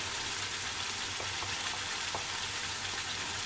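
Dry spices such as red chili powder frying in a hot pan for an egg curry give a steady, even sizzle that runs without a break. There are a few faint clinks near the end, and no one speaks.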